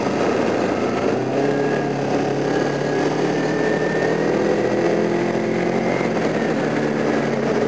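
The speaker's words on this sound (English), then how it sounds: "I'm going to blow this stop sign because my bike will stall." Motorcycle engine running steadily while riding in cold, 8-degree weather, a continuous droning hum with wind noise and a slight rise in pitch, fairly loud and close, with no one speaking.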